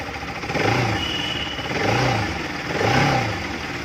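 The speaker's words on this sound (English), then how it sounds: "Okay, yeah, the bike started. No weird sounds." A Bajaj Pulsar RS 200 motorcycle fitted with iridium spark plugs idles close by, its engine note swelling in three short, even throttle blips.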